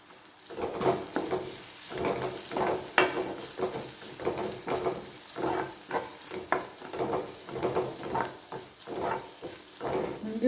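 Ginger, garlic and curry leaves sautéing in a hot pan for meal maker gravy, a steady crackling sizzle with repeated stirring scrapes in an even rhythm throughout, close and fairly loud, with no voices.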